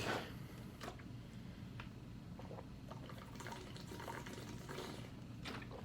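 Water is poured into a glass, a faint, soft trickling and gurgling at close range that carries on steadily with small clinks, no talk over it.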